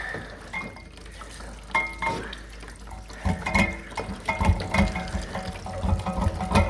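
Water rushes and splashes while flushing calcium and sand sediment out of a hot water tank, quieter at first and then a louder, steady gushing flow.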